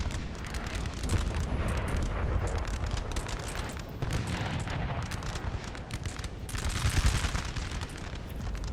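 Napoleon: Total War battle with massed musket rifle volleys, a continuous, loud crackle of gunfire layered over a low rumble that swells and recedes across the scene.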